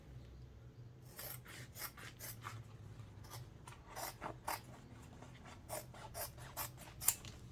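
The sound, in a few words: scissors cutting a sheet of vinyl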